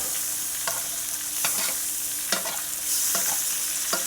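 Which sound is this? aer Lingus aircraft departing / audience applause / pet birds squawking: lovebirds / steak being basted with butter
steak being basted with butter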